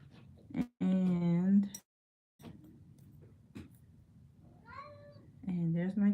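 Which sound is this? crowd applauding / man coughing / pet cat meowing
pet cat meowing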